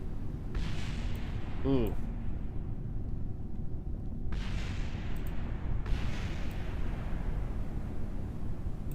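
A rocket blows up in a space program video game, with a sharp burst, a rumbling roar and a later second blast over a steady low engine drone; a voice reacts briefly.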